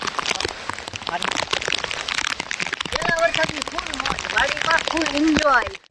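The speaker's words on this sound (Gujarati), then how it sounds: "જો ફૂલ વરસાદ છે" Heavy rain falls steadily on a farm, a dense continuous patter with voices talking over it.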